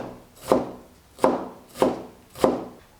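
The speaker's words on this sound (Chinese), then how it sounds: "先切成段儿， 再横着切成丝， 最后切成小碎丁。" A knife chops napa cabbage on a cutting board in four evenly spaced, crisp thuds with short crunchy tails, close and clear with no talk.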